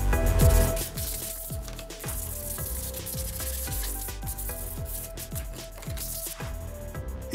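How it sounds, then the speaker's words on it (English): A disc sander smooths the side of a wooden Christmas-tree shelf piece, giving a steady, close abrasive rubbing and whirring with repeated scraping strokes, and a brief louder thump at the start. "using my disc sander to smooth down the side, to then finish with some sandpaper."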